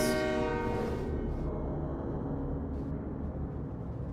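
A Portal 2 game train rumbles past close by, its horn sounding at the start and fading within about a second, leaving a steady low rolling rumble that runs to the end.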